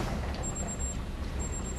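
A timer beeps twice in two long, thin, high-pitched tones, faint above a dense, rumbling game soundtrack.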